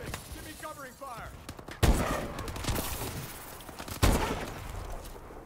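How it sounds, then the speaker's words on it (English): Covering gunfire in the Advanced Warfare shooter game, two loud bursts of rapid automatic fire that ring out and trail off, with a voice speaking briefly at the start. "Give me covering fire."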